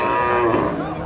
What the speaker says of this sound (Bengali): মাংসের গাভী আমরা দেখছি দর্শক।